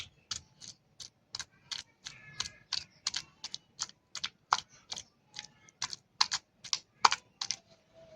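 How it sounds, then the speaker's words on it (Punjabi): Peeled, chopped taro (kachalu) pounded lightly in a mortar while making kofte: a steady run of about twenty sharp, close knocks at roughly two or three per second, with no talking. "ਇਹਨਾਂ ਨੂੰ ਥੋੜਾ ਜਿਹਾ ਕੁੱਟ ਲੈਨੇ ਆ ਕੁੰਡੇ ਦੇ ਵਿੱਚ ਹੀ"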